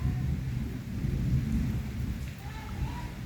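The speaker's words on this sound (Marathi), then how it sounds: "दुपारी मेघगर्जनेचा हा पाऊस या ठिकाणी आलेला आहे" Afternoon thunderstorm rain over Beed city: a low, rolling thunder rumble runs beneath steady, dense rainfall throughout, close and fairly loud, with no voices.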